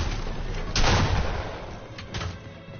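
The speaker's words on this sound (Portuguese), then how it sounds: "Isso é um tiro, a shotgun." A shotgun fires: one loud, sharp blast followed a second later by a fainter pair of booming reports, set against a dense, noisy background.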